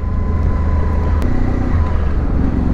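A 2006 Honda VFR 800 VTEC motorcycle rides through town with a steady low engine drone and road rumble, close and continuous, with one brief sharp click.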